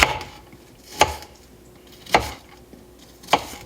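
A knife chops through an apple on a cutting board, four crisp evenly spaced thunks about a second apart, close and clear with nothing else around them.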